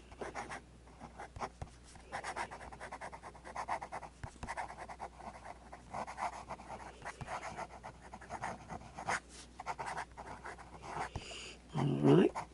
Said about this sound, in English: Some fast writing.